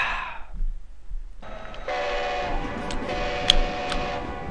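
Train sounds from the video game Mizar, a steady rumbling rail hum with faint ticks and brief whistle-like tones that begin after a short quiet gap and continue at a moderate level.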